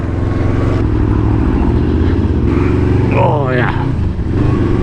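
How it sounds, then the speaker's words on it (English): A Yamaha VMAX motorcycle engine drones loudly and continuously close by, holding a steady revving roar while a man briefly exclaims over it. "I'm going to keep on revving this"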